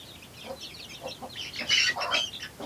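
Hens cluck among chicks in a short burst of close, overlapping clucks and higher chirps, growing busier toward the end.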